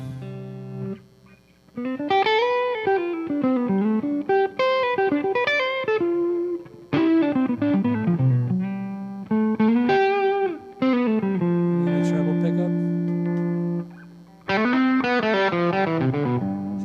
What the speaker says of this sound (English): Slowly goes in distortion.